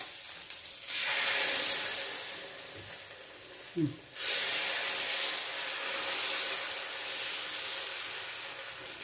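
Toor dal dosa batter hits a hot pan and breaks into a loud, bright hiss that holds steady, drops away for a moment with a short scrape, then surges back and continues sizzling.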